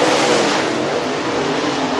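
Race cars lap a dirt track at Duck River Raceway Park, a loud, steady roar of engines under full throttle, dense and continuous with no pauses or speech.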